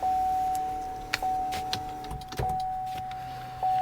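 A 2019-2022 GM 1500 pickup powers up without the engine starting, bringing a steady electronic tone, several ticking clicks and relay thunks, and a brief motor whir inside the quiet cab.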